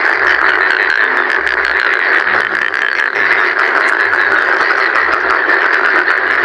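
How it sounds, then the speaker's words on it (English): Frogs croak in a steady nighttime chorus, loud and continuous, with dense overlapping calls and no voices. "Frogs croak to attract mates."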